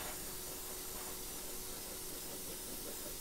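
Airbrush spraying paint onto a custom bluegill fishing lure, a steady unbroken hiss of air and atomized paint held at an even, moderate level from start to finish, with no voices.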